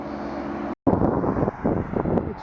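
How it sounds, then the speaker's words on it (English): Gusts of wind batter the microphone with loud, rumbling buffeting, broken by a brief dropout, then continue in uneven bursts. "It's too windy"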